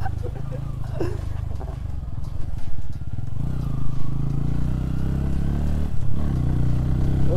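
A Bajaj Pulsar motorcycle ridden off-road, its engine a steady low rumble throughout with some clattering from rough ground, and people talking over it.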